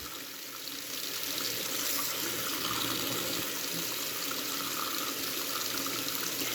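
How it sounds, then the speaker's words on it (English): Tap water running steadily into an aquarium tank being filled, a constant soft hiss and splash of flowing water with no pauses and no voices. "we'll just leave the water running for the entire time that we fill the tank"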